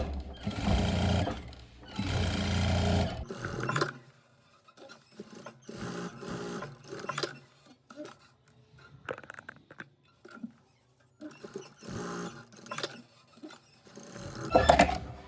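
A sewing machine runs in bursts while stitching a pot holder made from fabric scraps, two long loud runs at first, then shorter stop-start stitching with pauses and handling noises between.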